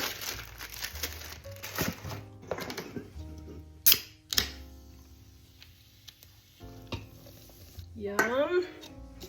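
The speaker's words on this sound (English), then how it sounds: "we're gonna mix this all around" Butter pecan cake mix and ginger ale are mixed in a bowl, soft intermittent scraping and stirring with a couple of sharp clinks, close and fairly quiet, with a brief voice near the end.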